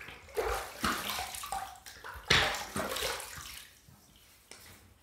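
Water splashes and sloshes in a sink as hands scoop it up to wet the face before a shave, several close irregular splashes and drips with short gaps between.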